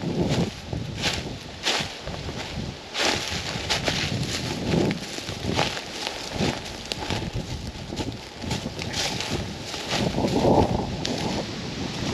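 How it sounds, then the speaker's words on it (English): Wind gusting steadily through an overgrown Wisconsin public hunting area, a broadband rushing roar with some buffeting on the microphone and scattered rustling steps, continuous for the whole stretch. "this wind feels great"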